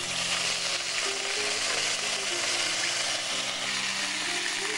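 Ginger paste fries in a pan of oil on a cooking show, giving a steady, close, moderately loud sizzle and bubbling that holds without break. There is no talk over it.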